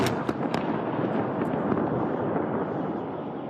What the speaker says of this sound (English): Explosions rocking Beirut tonight after Israel began another wave of attacks on Lebanon.